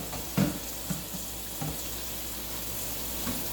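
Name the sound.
tap water running while washing a plate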